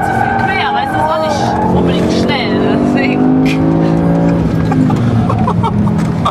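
BMW M5 driven hard around the Nürburgring in a ring taxi, engine roaring loud and continuous with rising and falling revs and a tire squeal as the car slides, while people talk inside the cabin.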